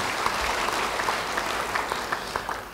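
A church congregation claps for a pastor's sermon, a dense sustained applause with some sharper individual claps standing out, continuous and fairly close.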